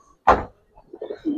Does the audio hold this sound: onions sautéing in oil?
no